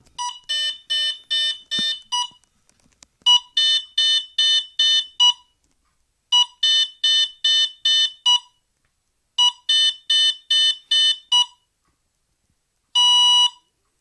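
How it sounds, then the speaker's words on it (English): Rhythmic groups of electronic beep tones from an RC electronic speed controller in setup mode repeat in clear bursts with short pauses between, ending in one longer tone. "three beeps, and a bip is medium, three volt, low voltage cutoff threshold default"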